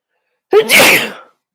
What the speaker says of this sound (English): Oh no, I've got to sneeze.